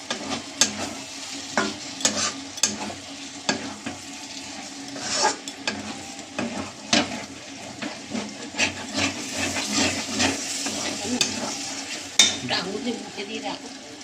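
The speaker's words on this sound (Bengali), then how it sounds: "যতক্ষণ না ভালো মতনভাবে এই চর্বি থেকে গলে তেলটা বেরিয়ে আসছে ততক্ষণ কিন্তু কষিয়ে যেতে হবে।" Mutton fat sizzles softly in a pan while a spoon stirs and scrapes it with repeated sharp knocks and rubs, frying quietly throughout.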